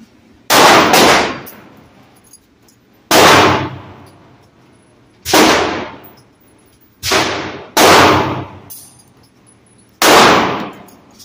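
A Glock G45 pistol fires six loud, sharp shots at uneven intervals, each ringing out with a decaying echo at an outdoor range.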